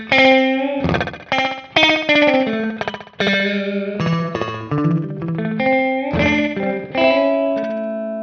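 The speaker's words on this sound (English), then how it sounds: "So now delay is also set for 12 o'clock." Sustained electric guitar phrases through a BOSS PS-3 digital delay pedal with delay set at 12 o'clock, each note trailed by soft repeating echoes, moderately loud with a slightly gritty, distorted tone.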